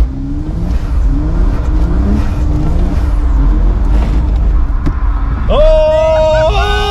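A car drifting on a track, its engine droning with a pitch that wavers through the slides, then a sharp, loud rev climbing near the end, with voices heard under the engine.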